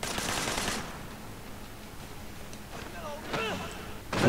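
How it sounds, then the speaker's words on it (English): Enemy machine gun fire in the Sleeping Dogs video game, heard as short rattling bursts at the start and again near the end, with a voice talking in between. "Oh, he's got a machine gun."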